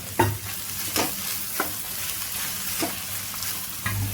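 Chopped vegetables including capsicum are stir-fried for fried rice, with a steady sizzle in the pan broken by several distinct spatula scrapes and taps at irregular intervals, close and clear with no talking.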